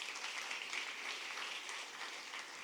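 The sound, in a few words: church congregation applause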